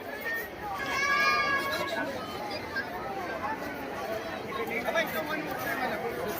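Dense crowd chatter surrounds the Palkhi procession in Hadapsar, Pune, a steady close babble of many voices with a nearby voice rising over it at moments, footsteps and movement mixed in throughout.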